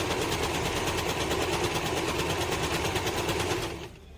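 An Usha Janome DLX sewing machine runs steadily, stitching with a fast, even mechanical chatter for several seconds before winding down and stopping near the end.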